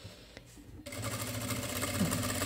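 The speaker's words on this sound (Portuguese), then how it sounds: "Só fazer a costurinha dessa forma." A sewing machine runs a safety seam at the edge of a small fabric phone bag, starting after a short quiet pause with a click, then stitching steadily and fast, close and alone.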